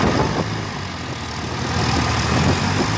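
An Eicher 551 tractor stuck in hard-packed soil runs its engine loud and steady, a low continuous diesel rumble with slight surges as it strains.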